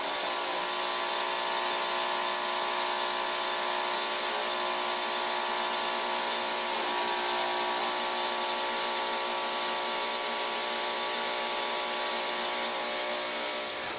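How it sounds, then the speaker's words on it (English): Ultrasonic cleaning tank running, a constant dense high-pitched hum that holds steady and unbroken throughout, with no voices. "turn the ultrasonic tank on, see the graphite actually being driven out between those two flat surfaces"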